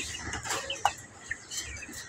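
Guinea fowl eating grass outdoors, giving a few soft clucks and short chirping calls, faint and close, with light rustling between them.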